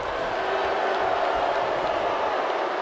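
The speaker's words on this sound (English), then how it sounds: "Man, this crowd is really booing." A wrestling arena crowd in WWE 2K19 gives a steady, broad roar of disapproving noise that fills the space evenly from start to finish, with no clear individual voices.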